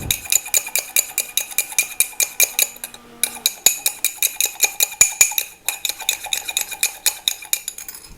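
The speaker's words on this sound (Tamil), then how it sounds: "கப்பை இந்த மாதிரி கொஞ்சம் சாய்ச்சி வச்சுட்டு நல்லா பீட் பண்ணணும்" A metal spoon beats instant coffee in a tilted cup, giving fast, regular clinking strokes against the cup with a brief pause partway through. The clinking is close and fairly loud, with no talking.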